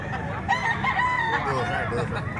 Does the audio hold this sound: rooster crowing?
yes